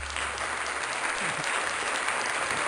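Steady, dense applause fills the space for Julio, a continuous wash of many hands at even loudness with no individual claps standing out, and no talk over it.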